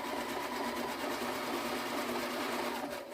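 A sewing machine stitches a quilt block in a steady, fast, continuous mechanical whir with a fine repeating needle rhythm, heard close and alone.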